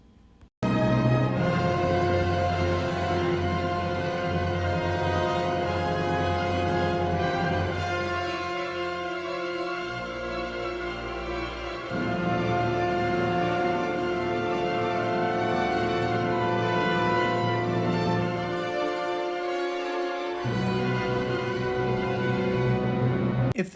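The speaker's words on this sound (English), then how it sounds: "Towards the end of the fourth movement, we are rewarded with a big brassy climax that sounds like this." A big brassy orchestral climax near the end of the fourth movement of Rautavaara's Third Symphony, full and loud brass and orchestra swelling in sustained chords, briefly thinning twice before surging back, with no talking throughout.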